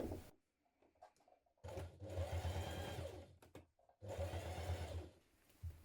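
A domestic sewing machine stitching with a twin needle, running in two bursts of about two seconds each with brief pauses between, close and moderately loud.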